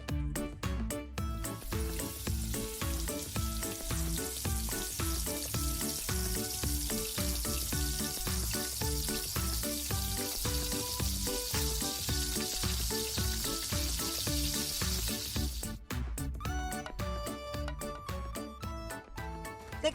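Food sizzles steadily in hot oil in a home kitchen, a dense continuous crackle that stays close and fairly quiet, with a brief stir or clatter near the end and no talking over it.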